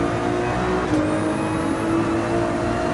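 A Ferrari race car in Gran Turismo 7 runs at full throttle, its engine a loud, steady, high-pitched roar that holds without pause for the whole stretch.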